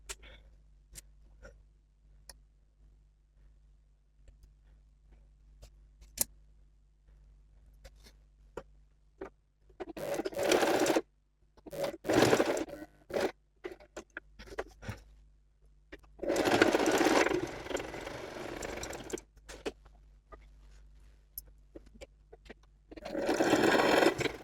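A sewing machine stitches a marked seam on co-ord set fabric in a few separate bursts, the longest lasting several seconds, with quiet pauses between runs and no talking.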